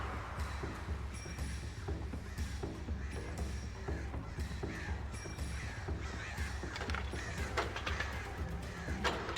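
Crows caw repeatedly in the video game Alan Wake, harsh calls scattered over a dense, steady low background rumble at a moderate distance.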